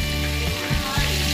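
Lá cách leaves deep-frying in hot oil give off a dense, continuous crackling sizzle, loud and close, with brief stirring disturbances in the middle.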